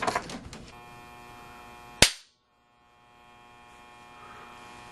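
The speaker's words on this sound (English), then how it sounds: "you can hear this meter doing some major breakdown on the inside" A Fluke 107 handheld multimeter failing under a destructive test, with a steady electrical buzz and crackle inside, then one sharp loud snap followed by near silence and a faint returning hum.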